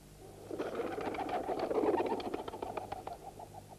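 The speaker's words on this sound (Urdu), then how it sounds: "یہ کبوتر بھی کسی زندہ مقام کی طرف اڑ کر جا رہے ہیں۔" Pigeons take flight, with a burst of fluttering wingbeats and soft cooing rising close by for a few seconds before settling into rapid flaps that fade.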